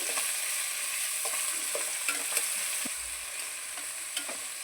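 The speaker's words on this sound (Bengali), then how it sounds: "এবার একটু নাড়ানাড়ি করে নিই" Spices with coriander-cumin paste and dry chilli powder frying in oil in a pan, a soft continuous sizzle broken by several light scrapes and taps of a spatula being stirred through, no voices.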